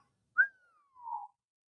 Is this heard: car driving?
no